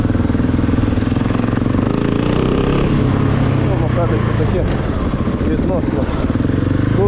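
Husqvarna 701 supermoto fuel-injected single-cylinder motorcycle engine running steadily throughout at close range, a loud continuous rumble with some clatter and revving fluctuations, no talk over it.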